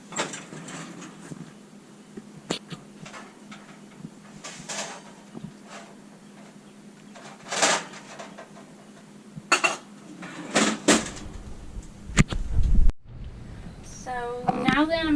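A warm glass jar lifted out of an oven, with clinks of glass and metal, clattering rack and door sounds scattered through a quiet kitchen, brief talk near the end.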